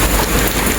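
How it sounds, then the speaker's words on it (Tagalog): Heavy rain pours steadily at the start of the rainy season, a dense, loud hiss of drops on surfaces filling the short moment without pause. "Wala tong hinto ang ulan."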